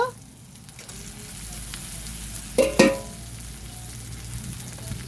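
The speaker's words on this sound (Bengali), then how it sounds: "মাংসটাকেও আমি ভালো করে কষিয়ে নেব" Boiled meat for khichuri being sautéed in a pan, a soft steady sizzle with a couple of sharp clattering stirs near the middle.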